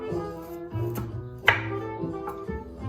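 Knife chopping red onion very small for a salad, a steady series of close, crisp cuts on a board with one sharper knock partway through.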